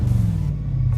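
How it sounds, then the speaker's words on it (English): Inside the cabin of a 2014 Jeep Grand Cherokee SRT, the engine gives a steady, loud, deep low rumble as it is revved, a continuous droning hum with no voices. "I don't know how it's going to sound inside here if I rev it"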